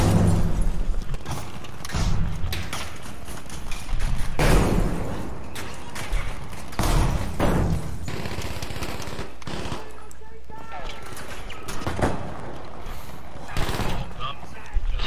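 Video game gunfight full of loud bursts of rapid shooting and heavy booms, coming in uneven clusters with short gaps, while a voice talks over the firing.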